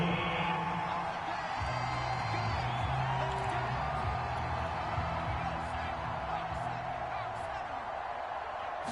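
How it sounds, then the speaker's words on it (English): Stadium crowd in a Madden football video game shouting and cheering during a replay, a dense steady roar with scattered whoops, under a commentator's voice talking. "Plenty of shouts from this crowd as they watch the replay."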